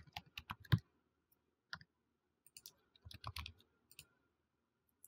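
Keys tapped on a computer keyboard while a registration form is filled in on a Mac running Xcode: short irregular bursts of close clicks with pauses between, no talking.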